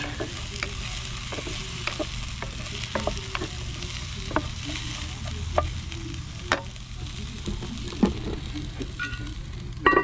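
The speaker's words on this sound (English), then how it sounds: "Just gonna let that fry down a little bit until it gets nice and translucent." Onions frying in a Dutch oven: a steady close sizzle with occasional sharp scrapes and taps of stirring scattered throughout.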